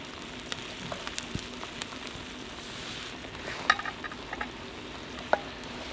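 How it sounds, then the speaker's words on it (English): Army stew soup boils in a pot over a campfire on a cold winter night, with a soft, steady bubbling hiss, scattered small pops and crackles, and a couple of sharper ticks. No one talks. "And there we go, we've got boiling soup."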